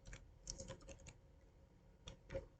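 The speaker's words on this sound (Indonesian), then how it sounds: "maaf ketik saya terlalu cepat" Fast typing on a computer keyboard, close quiet clusters of rapid key clicks in two short bursts separated by a brief pause.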